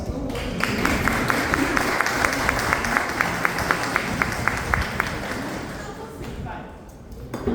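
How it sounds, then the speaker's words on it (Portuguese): A church congregation breaks into sustained applause, many hands clapping together in a dense roar, with a faint rhythmic beat running through it before the sound thins near the end. "Salve de palmas"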